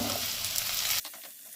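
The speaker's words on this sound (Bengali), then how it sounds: "একটু ভেজে নেব এবারে পেঁয়াজ কুচিটা দিয়ে দেবো" Chopped green chili, garlic and ginger sizzle loudly in hot oil for about a second, then the hiss drops sharply to a quieter crackle.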